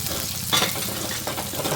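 Thinly sliced onions fry in hot oil, a close continuous sizzle with the scrape of a spoon stirring the pan.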